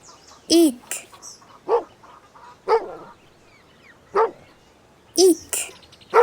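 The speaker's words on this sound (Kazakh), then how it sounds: "Ит." A dog barks in six sharp, loud, separate barks spread at uneven intervals, close by, with no talking over them.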